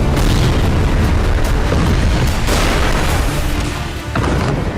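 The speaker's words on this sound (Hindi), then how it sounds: "घातक मिसाइलों और ग्लाइड बमों के हमलों से धरती को दहलाया" Israeli air force missile and glide bomb strikes on Lebanon shown in news footage: a loud, continuous wash of booming and rumbling blasts with crackling debris, dense and sustained, with no talk.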